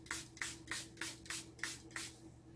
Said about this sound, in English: So I'm going to mist myself a couple of times with it.